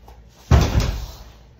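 Heels striking an indoor door during a headstand attempt: one sudden heavy thud against the door at close range, followed by a short dull rattle that fades, with no talk.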